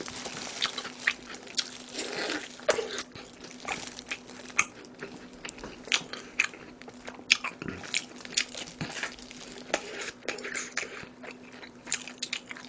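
Close, crisp crunches and wet chewing come as someone bites into crispy fried chicken, with irregular bursts of crackling bites and softer mastication in between.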